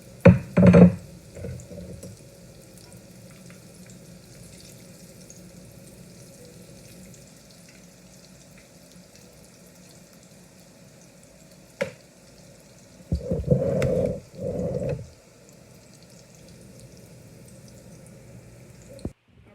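Doughnuts fry in oil in a pan with a soft, steady sizzle throughout, broken by a few louder bursts of clattering or splashing near the start and toward the end.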